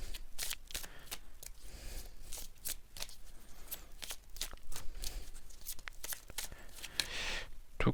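A deck of cards shuffled by hand during a tarot-style card reading: close, crisp riffling bursts repeating in a steady rhythm, with soft paper flutter between them.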